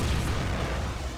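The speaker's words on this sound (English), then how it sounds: "Hell yeah, look at those explosions." Deep booming explosions of destroyed drones in the space combat game Freespace 2, a short rumbling blast that rolls and fades, with no voices.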